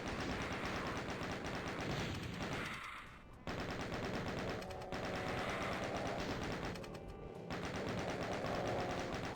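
Rapid automatic fire from custom enemies in a Doom mod, a dense continuous barrage of gunshots with brief gaps.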